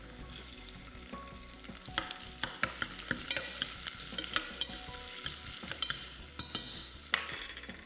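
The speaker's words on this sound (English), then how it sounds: "I don't need to color the garlic here. Just saute it till it starts turning light brown" Garlic sautéing in a pan for a Kerala lobster curry, a constant close sizzle of hot oil broken by repeated sharp scraping and tapping of a spoon against the pan.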